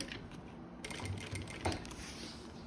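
A sewing machine topstitches and backstitches fabric for a double-sided reversible pouch, giving a soft, quick mechanical whir with a rapid ticking rhythm, fairly close and quiet.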